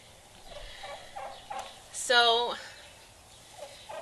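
A turkey at an animal sanctuary lets out one loud, close, rapid warbling gobble, with faint speech before and soft background noise around it.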